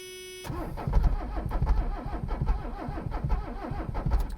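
An abandoned Mercedes 300CD diesel with a stuck accelerator cranks as it tries to start: a close, rapid, rhythmic churning of the starter with uneven chugs, lasting a few seconds after a brief tone.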